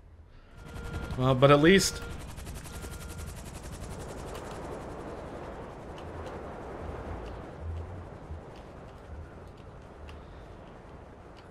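Gunfire in the GTA Online video game: a short burst of rapid shots near the start, then a steady rumble of game noise with a voice talking over it.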